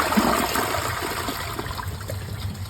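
A matte black one-piece dual flush toilet flushing, a loud close rush of water that tapers slightly over a few seconds into a steady gurgling trickle.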